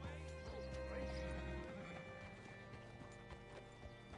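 Horse hooves clip-clop steadily in Red Dead Redemption 2, close and clear over a constant layer of game music and ambience, with a brief whinny near the start.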